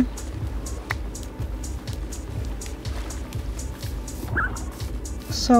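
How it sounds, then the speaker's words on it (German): Minecraft gameplay with a parrot appearing: short game chirps and squawks over rhythmic footstep-like thumps and ambient game sounds, no talking heard. "Papagei."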